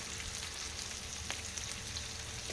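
Pieces of fish frying in a pan, a steady soft sizzle and crackle with a faint clink partway through, no voices.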